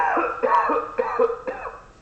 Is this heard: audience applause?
no